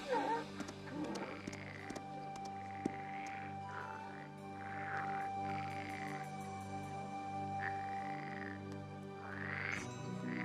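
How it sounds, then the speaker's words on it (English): A frog croaks in a steady, repeated pulsing rhythm, fairly close and clear, over a sustained tonal musical background with no talk. "Don't tell me you're afraid of a frog."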